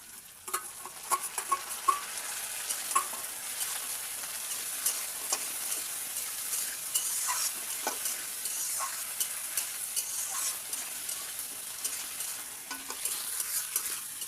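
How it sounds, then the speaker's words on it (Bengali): Fried potatoes sizzle and crackle in hot oil as green chili, ginger and garlic pastes are stirred in, a steady close frying hiss with scraping stirs throughout. "আলু ভাজা হয়ে গেছে, এবারে কাঁচা লঙ্কা বাটা, আদা বাটা, রসুন বাটা দিয়ে দিচ্ছি একসাথে"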